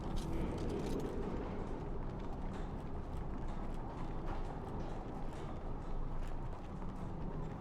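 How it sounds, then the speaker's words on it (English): A video game ambient loop like pennies tumbling in a dryer, a dense continuous rattling clatter with steady mechanical churning, loud and unbroken throughout. "I think some of the ambient noises that they used here are from a dryer. Like they put pennies or something in a dryer and recorded that"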